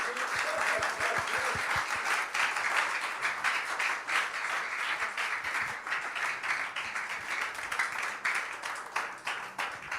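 A church congregation applauds at a worship service, sustained dense clapping from many hands filling the room at moderate loudness throughout.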